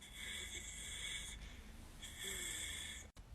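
A voice imitates struggling, wheezing breath, with two long, hissing, strained inhalations separated by a short pause, close and fairly quiet, ending in a brief catch.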